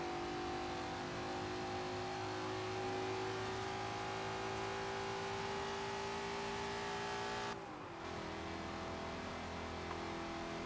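A ute engine runs flat out in a Forza Horizon 3 drag race, a steady loud droning roar with a sustained high whine and one brief dip near the end as the gear shifts.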